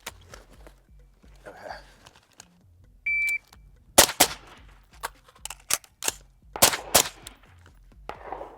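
AR-15 rifle gunshots fired in a quick cluster of sharp, loud cracks with brief gaps, preceded by quiet handling noise and a short electronic beep.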